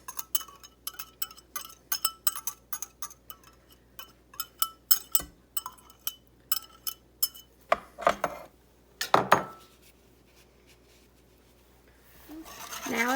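Egg yolks being whisked in a bowl for a chocolate pie filling, a quick series of sharp metallic clinks and scrapes against the bowl that stops partway through, followed by a brief rustle near the end.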